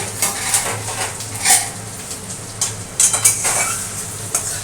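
Food tipped into a hot kadai sizzles and spatters, with scraping stirs and clinks of a utensil against the pan in irregular bursts, close and fairly loud, no talk.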